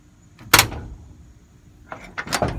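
A car door pushed shut on a fitted panel, giving two solid thumps about two seconds apart, the first sharp and loud, the second a double knock as it settles flush, close by with no talk.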